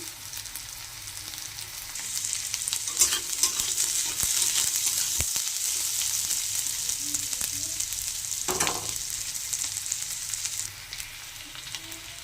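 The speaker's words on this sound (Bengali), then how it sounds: "পেঁয়াজগুলো হালকা হালকা ভাজা হয়ে এসেছে এবার এর মধ্যে আলুগুলো দিয়ে দেবো" Potatoes sizzle in a pan with lightly fried onions, a steady close frying hiss throughout with occasional stirring scrapes, no talking.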